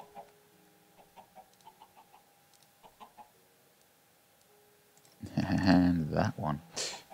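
Chickens in Minecraft Skyfactory cluck softly in short scattered bursts, then a voice comes in loud over them for the last couple of seconds.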